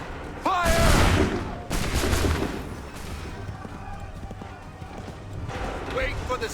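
Massed musket volley from a battle in Assassin's Creed III, a loud burst of overlapping shots followed by further crackling fire and rumble, with shouted voices in the mix.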